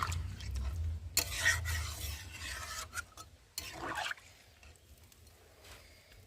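A spatula scrapes and stirs chicken curry in a pan, soft rasping strokes coming in a few short bursts at low volume, with a faint hum underneath.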